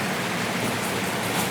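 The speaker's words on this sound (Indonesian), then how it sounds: "Benar-benar hujannya sangat deras" Heavy, steady rain pours down around a house's back fence area, a dense, loud, unbroken hiss with no gaps.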